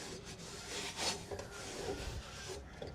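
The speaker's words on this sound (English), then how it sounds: "I'll go grab a rag and give this a good wipe down" A rag rubs over an oiled, rusty coal shovel in quiet, close strokes, a soft continuous scuffing with a few sharper swipes.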